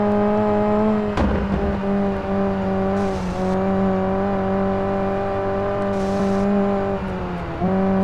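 A 1970s Mini Cooper S rally car in the Sébastien Loeb Rally video game holds a steady high-revving engine drone, with brief gear-change dips and a short skid or impact noise.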